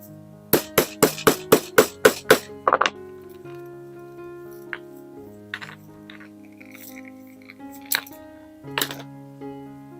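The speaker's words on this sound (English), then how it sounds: "The hammer work is done." A quick run of about eight sharp hammer taps in steady rhythm, setting studs into a leather bag, followed by a few scattered lighter knocks over faint background music.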